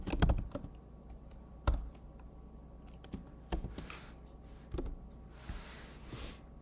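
Keys clack on a computer keyboard while entering commands in Mathematica, a few sharp loud strokes followed by scattered lighter taps at close range.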